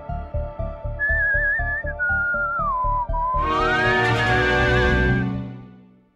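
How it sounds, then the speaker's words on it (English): A game over sound effect from the Idea Engine game-making tool: a wavering whistle-like melody over a pulsing beat, then a loud bright chord swells and fades out. "we've got this sound effect telling us that the game is over"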